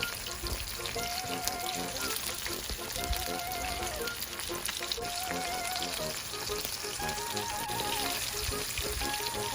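Marinated fish frying in hot oil, giving a steady dense sizzle and crackle that runs throughout at even loudness, with faint music or tones in the background.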